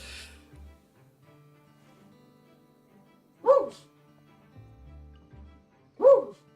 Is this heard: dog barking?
yes